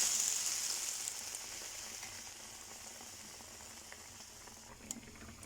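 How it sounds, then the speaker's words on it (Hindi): Bread pakora coated in batter bubbles in hot oil with a steady hiss that is strongest at first and then settles into a softer crackle, with no voices. "इसको मैं किसी चम्मच की हेल्प से निकाल के ऑयल में डिप कर दूँगी।"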